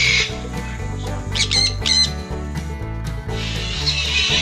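Parrots of many colours at a resort squawk and screech in loud bursts over a steady background of other birds and ambient noise, with no talking.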